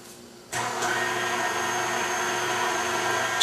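A stand mixer kicks on and runs steadily, working a batch of dough in a kitchen, its loud even motor whir sustained without pause and no voices over it.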